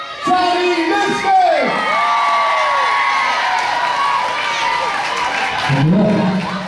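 A loud crowd cheers, whoops and applauds for a singer at a talent-show final, with shouts and high whistles rising and falling over steady clapping; a voice calls out near the start.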